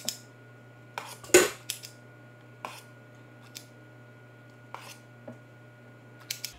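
Metal clinks from a Pampered Chef ice cream scoop knocking against greased muffin pans while pumpkin muffin batter is scooped in, several sharp, close taps spaced irregularly over a quiet kitchen hum.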